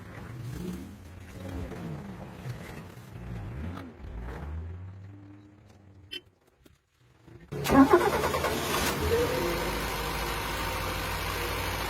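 Car engine fed oxyhydrogen gas made from water by electrolysis, idling with talk over it, then a brief pause before it roars up loudly from about 900 to 2000 RPM and holds a steady, strong drone.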